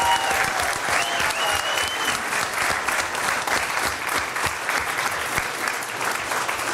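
Board-meeting audience applauding a group of school principals, a steady, dense round of clapping that holds evenly loud for several seconds, with faint voices mixed in.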